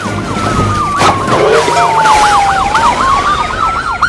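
A loud police siren sound effect wails in a fast warbling sweep alongside a rising and falling tone, filling the whole stretch with no talk.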